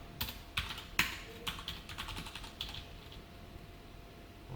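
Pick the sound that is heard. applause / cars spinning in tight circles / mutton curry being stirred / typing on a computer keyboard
typing on a computer keyboard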